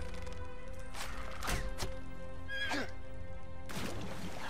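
A horse neighs in the video game LEGO Lord of the Rings, with several sharp whinnies and thumping hoof sounds over steady game background noise.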